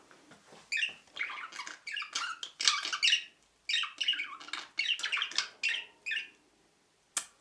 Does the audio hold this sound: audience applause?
no